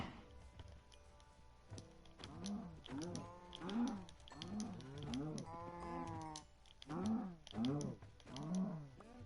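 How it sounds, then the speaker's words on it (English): Cows moo repeatedly in the video game Minecraft, a series of close, drawn-out lowing calls overlapping one another with brief gaps, no talk heard. "Time to go feed the cows."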